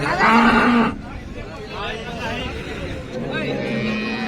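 A cow gives a loud, drawn-out moo at the start at a cattle market in Maharashtra, followed by a busy crowd murmur and nearby voices talking.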